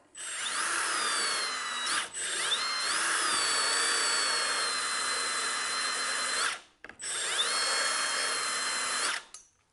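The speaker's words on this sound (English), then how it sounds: "There you have it, the Makita Dynafile" A Makita Dynafile belt file runs at steady high speed in loud, continuous whining bursts, with two short cutoffs midway and near the end before it spins back up.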